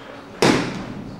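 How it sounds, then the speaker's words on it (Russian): A single sharp punch lands on boxing focus mitts during pad work, one loud dull smack standing alone in an otherwise quiet room. "это немножко глухой удар"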